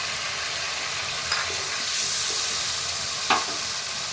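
Salt, turmeric and Kashmiri red chili powder fry in a pan for a paneer and pointed gourd dish. A steady sizzle runs throughout, with a few faint utensil taps and scrapes now and then and no speech.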